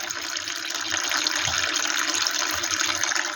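Coolant drains steadily out of the cooling system of a Hillman Super Minx, a continuous trickling, splashing flow of liquid that holds even and fairly loud for the whole stretch with no voices.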